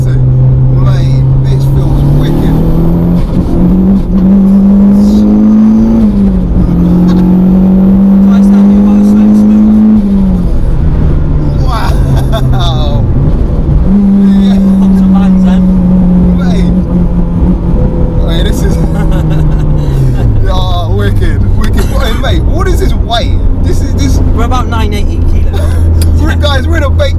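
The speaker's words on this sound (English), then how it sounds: "the flutter you're getting too when you're coming off the throttle, the wastegate" A 980 kg, 311 bhp turbocharged Renault Clio 172 Cup revs hard through the gears, its loud engine note rising and dropping with each shift, and the wastegate flutters on lift-off while occupants talk excitedly over the noise from inside the car.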